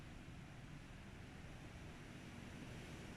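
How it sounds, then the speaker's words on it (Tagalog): Strong wind roars steadily outdoors in the early morning, a dense, continuous rush that blows across the microphone with no pauses and no voices. "ang lakas ng hangin"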